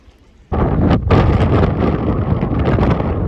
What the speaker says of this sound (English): it's just blowing wind